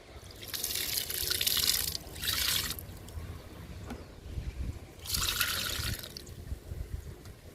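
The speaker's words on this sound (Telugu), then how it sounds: "జామ మొక్కకు కూడా లిక్విడ్ ఇస్తున్నాను" Liquid fertilizer is poured onto a guava plant in a garden, giving a close, steady splashing trickle in a few surges, with softer dribbling between pours.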